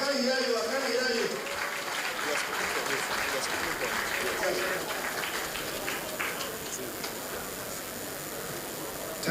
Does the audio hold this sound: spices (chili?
no